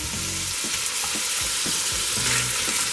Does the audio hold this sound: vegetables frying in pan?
yes